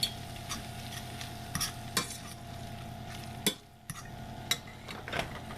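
Meat browning in a pot for bacon cheeseburger soup, a continuous soft sizzle broken by several sharp clinks and scrapes of a utensil stirring, with no voices.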